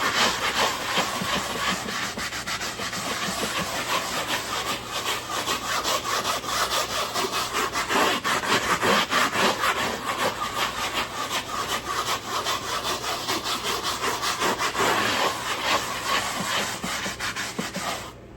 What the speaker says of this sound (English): So now we'll take our tool and kind of circular motions go through and just kind of start scrubbing it a little bit.